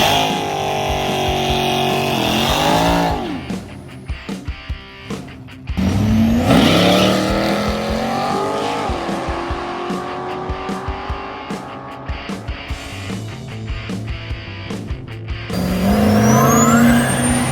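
Race cars at the Redwood Rally drag event roar down the track, loud engines revving and accelerating with tire squeal, several passes in succession with gear-change pitch sweeps and brief lulls between them.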